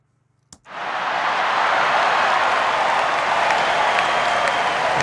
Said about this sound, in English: So here's crowd excited.